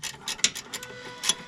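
A hand ratchet undoing a bolt on a Saab 9-5 gives a quick run of crisp, close clicks in an uneven rhythm, quiet and heard alone.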